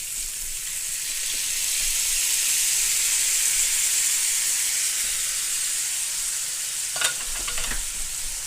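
Italian sausages sizzle and fry steadily in a single pan, a continuous close hiss with a few brief stirring or flipping clatters near the end.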